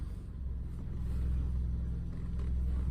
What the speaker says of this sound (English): So I'm going to drive around the neighborhood a wee bit here